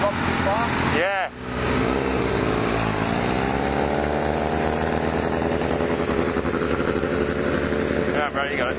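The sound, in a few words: Kawasaki 636 motorcycle engine revving and idle dropping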